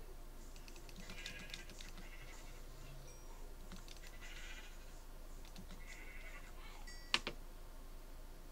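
A sheep bleats in the Minecraft video game, one short clear call near the end standing out over a steady low game ambience with faint clicking throughout.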